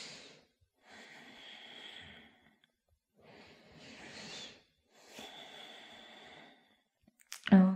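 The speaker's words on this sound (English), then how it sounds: "Start to deepen your breath as you hold it there." Slow, deep breaths held during a yoga pose, close and soft: four long airy exhalations separated by short silences, ending in a brief sharper rustle.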